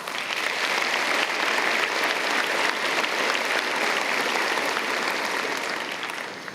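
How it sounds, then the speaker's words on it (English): Graduation audience at a University of Waterloo Faculty of Science ceremony breaking into loud, sustained applause, dense steady clapping filling the hall for several seconds before easing slightly at the end. "So please give yourselves a round of applause."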